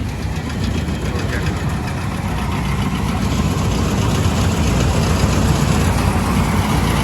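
Combine harvester engine running during the paddy harvest, a loud, steady low rumble with constant mechanical drone that holds without pause, close by.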